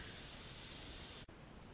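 Steady broadband hiss of air blasting through an airbrush while it is cleaned out, loud and continuous for over a second before cutting off sharply to quiet.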